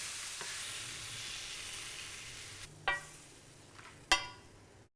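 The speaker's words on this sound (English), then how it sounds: "let me get this second batch of leeks into the baking pan" Leeks drop into a hot baking pan for a Greek whole grouper dish, giving a steady low sizzle with a few sharp clattering bursts near the end.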